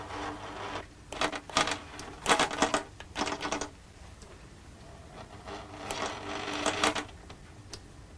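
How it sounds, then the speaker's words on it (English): A sewing machine with its needle driven by a stepper motor runs in short bursts of rapid mechanical clatter, several separate runs broken by quieter pauses, close and fairly loud. "I think you can see the stepper motor moving the needle in this machine"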